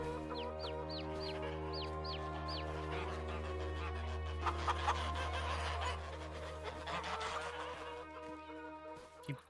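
Chickens and chicks around a coop in the Farming Simulator 25 video game, with repeated soft clucks and peeps over a steady low background hum and some busier mixed activity midway, no talking.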